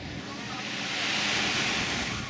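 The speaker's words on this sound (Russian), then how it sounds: "О, здесь волны." Ocean waves wash onto Tanjong Beach on Sentosa, Singapore, a broad, steady surf roar that swells slightly midway, with some wind rumble against the microphone.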